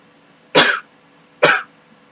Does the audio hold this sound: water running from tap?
no